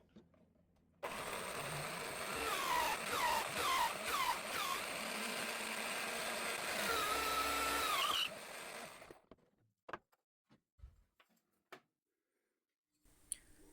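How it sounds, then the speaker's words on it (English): A drill bores a hole down the centre of a roughed-out wooden crochet handle blank, a loud steady whine running for about seven seconds with pitch wavering under load, then cutting off into a few light knocks and near silence. "Now I got to drill a hole down the center, or close to it."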